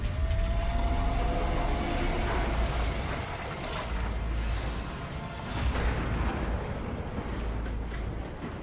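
Train ride sounds in the video game Hard West 2, a loud, continuous rumbling roar of rolling rail cars with rushing, booming surges, heard alone.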